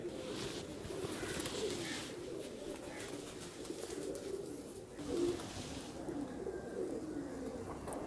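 Golden 222 breed pigeons coo continuously in a low, rolling murmur, several birds close together, with a brief louder swell partway through and no talking.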